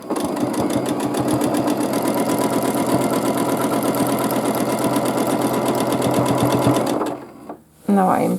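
A sewing machine quilting a baby quilt along dot-to-dot lines runs in a steady, fast, close stitching rhythm for about seven seconds, then slows, briefly stops and starts again.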